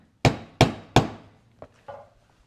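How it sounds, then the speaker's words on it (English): A 5mm stitching chisel is hammered through leather while making an ammo cartridge belt, giving three sharp, close, evenly spaced strikes followed by two lighter taps, with no talking. "This is the 5mm stitching chisels that I purchased from Weaver Leather 3 years or more ago."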